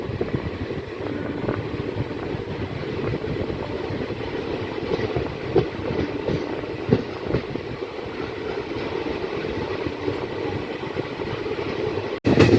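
An Intercity Express passenger train runs on the rails between Kolkata and Rampurhat, with a steady loud rumble and rhythmic clatter heard from inside a carriage, continuous throughout with a sharp jolt at the very end.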